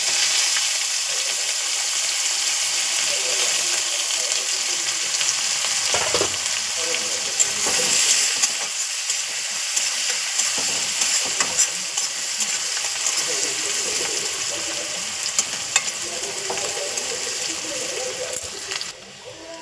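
Onions go into hot oil with cumin, dried red chili and bay leaf and fry with a steady loud sizzle, broken by occasional stirring clatter and scraping of a spoon against the pan.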